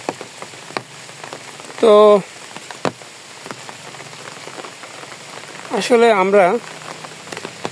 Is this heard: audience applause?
no